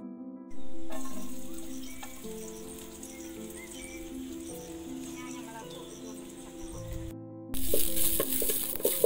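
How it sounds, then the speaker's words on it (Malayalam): Soft, steady sizzling of cashews frying in ghee, with faint stirring and a low hum underneath. "അണ്ടിപ്പരിപ്പ് ഒന്നുകൂടി വറുത്തിട്ട്"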